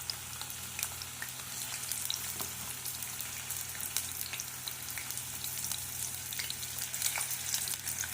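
Chopped onions fry in hot oil in a pan with a steady, close sizzle and scattered small crackles and pops throughout, no talking.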